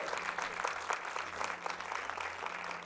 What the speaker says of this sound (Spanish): denle un fuerte aplauso al Dios Todopoderoso